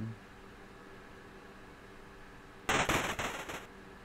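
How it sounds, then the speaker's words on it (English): A gunshot from the NES homebrew game The Great Gatsby: a loud, harsh chiptune noise burst that cuts in abruptly after a quiet low hum and rattles on for about a second before stopping. "and he gets shot"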